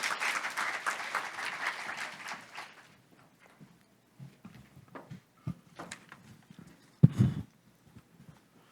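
An audience at a business forum applauds Titra CEO Simon Wang: brisk, dense clapping for about three seconds that quickly dies away into scattered claps, footsteps and handling noises, with a sharp thump near the end.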